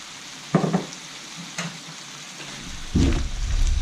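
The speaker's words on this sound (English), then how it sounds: "We'll add in our other ingredients, the mushrooms, the onions and the capsicums." Mushrooms, onions and capsicums for a cheesesteak hit a hot pan in bursts, each drop a quick sizzle, before the frying swells into a louder sustained crackle near the end.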